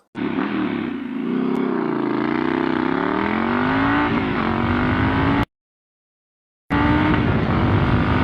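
A Triumph Scrambler 1200 XC motorcycle accelerating hard, its engine note climbing steadily through the gears, loud and close, with a brief cut of silence before the engine roars back.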